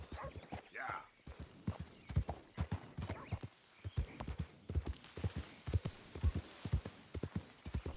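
Steady clip-clop of horse hooves trotting in a regular rhythm for several seconds in the video game Red Dead Redemption 2, with a voice talking over it.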